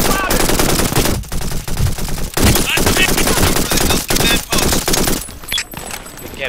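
Loud, dense machine gun fire from the shooter game Brink rattles in long sustained bursts with short breaks between them, close and dominant, with game voices briefly audible underneath.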